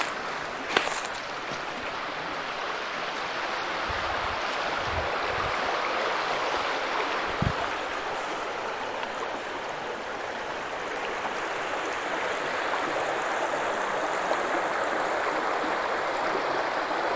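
Creek water flowing steadily over rocks at a creekside camp, a continuous broadband rush that stays even and fairly loud throughout, with a few faint knocks and no talk.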